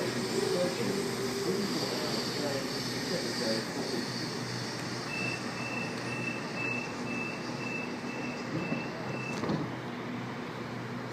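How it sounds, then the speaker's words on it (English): A suburban train pulls out from the Seven Hills station platform in Sydney, a steady rumble with a high electronic tone partway through, heard at close range among platform noise and some talk. "now departing platform 1 Campbelltown service"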